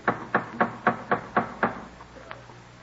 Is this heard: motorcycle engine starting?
no